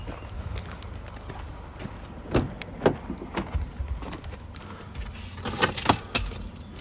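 Keys for a 2017 Ford Transit Connect 1.5 TDCI jangling and clinking in several sharp bursts, close by, with handling noises and quieter rustling between them.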